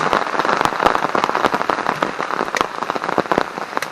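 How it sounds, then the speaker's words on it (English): Heavy rain pounds down at a wild camp, a dense, loud patter of drops striking a surface close by, steady and unbroken with no voices. "it's been raining so hard for quite a long time"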